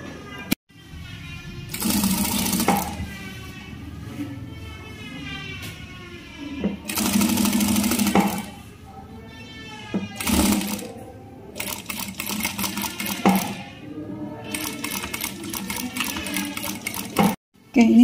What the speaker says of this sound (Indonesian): setelah itu kita jahit